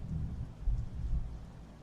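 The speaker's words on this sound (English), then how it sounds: "I love thunderstorms." Thunderstorm with low rolling thunder rumbling under a steady wash of rain, fairly loud and continuous, no voices.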